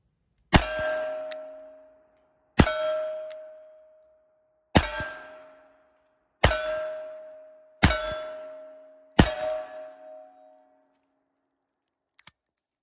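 Six shots from an original 1919-dated Australian contract Webley Mark VI .455 revolver strike steel targets, each a sharp bang followed by a long ringing clang, spaced roughly two seconds apart and heard alone.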